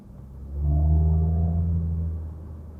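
A 1997 second-generation Toyota MR2 engine pulls in second gear below 3000 rpm, a faint low droning hum that swells over about a second and a half, then eases off, with no talk.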